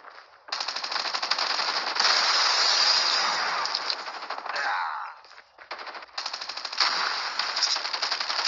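Rapid automatic gunfire in a Call of Duty match crackles in loud, dense bursts up close, pausing briefly around the middle before resuming in further sustained volleys.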